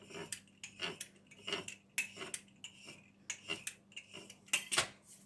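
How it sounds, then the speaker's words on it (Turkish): A tool scores lines into buttered pastry dough, making a rhythmic run of soft scrapes and light taps about twice a second, close and quiet. "Hemen aparatla çizikler atıyorum."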